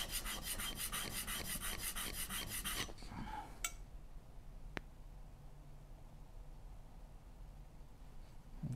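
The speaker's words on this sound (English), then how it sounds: "Although it looks like I'm sharpening. Which, in all reality, yes, I am sharpening." A woodworking tool is sharpened by hand during cabinet building. A quiet, steady rasping scrape repeats rhythmically for about three seconds, then stops, leaving a near-silent room with a couple of faint ticks.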